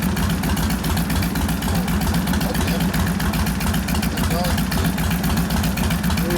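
A 1972 Harley-Davidson XL Ironhead Sportster bobber engine idles steadily and loudly throughout, with a constant low rumbling pulse that does not change.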